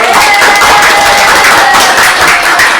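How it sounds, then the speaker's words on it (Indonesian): A group clapping and cheering indoors to welcome a new friend, dense, loud applause with sharp claps and crowd noise that stays steady throughout. "Boleh tepuk tangan dong."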